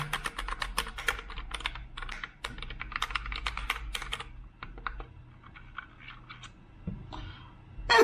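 Brisk typing on a homemade mechanical keyboard, sharp clacky keystrokes in quick bursts with short pauses, close and clear.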